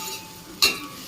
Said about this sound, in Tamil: இப்போ கட் பண்ணி வச்சுருந்த வெங்காயம், கருவேப்பிலை எல்லாத்தையும் சேர்த்து நல்லா வதக்கிக்கோங்க.